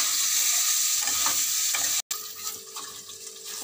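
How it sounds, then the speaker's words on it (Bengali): Paneer pieces fry in hot oil over lowered gas, a continuous bright sizzle with light clinks from stirring and a brief gap midway, no voices. "আমি পনিরগুলো ওই তেলে ভেজে নেব।"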